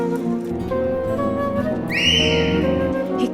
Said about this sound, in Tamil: கழுத விசில் அடிக்காதுன்னு இவ்வளவு வாட்டி சொல்லிட்டோம்.